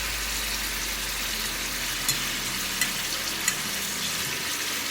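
Shrimp frying in a pan, a steady close sizzle with a few small pops and spatters, no talking.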